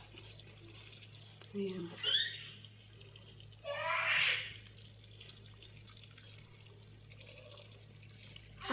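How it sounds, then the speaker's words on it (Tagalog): Water is poured into a cooking pot holding tulingan fish for sinaing, in two short splashing bursts separated by quiet kitchen stillness, with a brief spoken word from a nearby voice. "lagyan na natin ng tubig"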